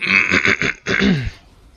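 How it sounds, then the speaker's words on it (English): A person clears their throat twice in quick succession, a rough rasping burst followed by a deeper grunting one, close and loud. "I need to clear my throat every once in a while"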